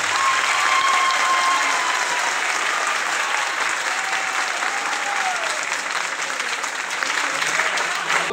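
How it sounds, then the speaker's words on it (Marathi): An audience at a Teacher's Day event applauds, a loud, sustained crowd clapping that holds steady for several seconds, dense and close with no speaking. "तुमची इच्छा असेल तर आपल्या स्वतःच्या आईसाठी जोरात टाळ्या होईल."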